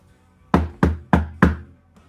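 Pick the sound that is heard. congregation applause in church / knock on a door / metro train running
knock on a door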